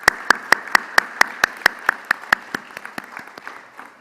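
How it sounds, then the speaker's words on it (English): Rhythmic, evenly spaced claps ring out at a commencement ceremony, a steady beat of sharp hand claps that gradually softens and fades over a few seconds. "And with a round of applause, maybe,"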